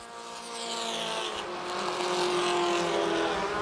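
Compact touring race cars lap the Winchester Speedway oval in a 2012 championship race, their engines droning steadily and swelling louder as the pack passes close by.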